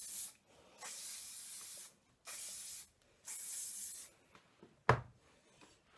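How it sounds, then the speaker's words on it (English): Three steady bursts of hairspray hiss from an aerosol can, each a couple of seconds long with short pauses between, followed by faint handling noises. "If you want, you can spray the back at this point."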